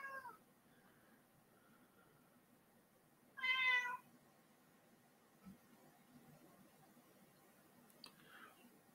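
A single cat meows once, a short clear call in a quiet room, with faint soft knocks before and after and no talk.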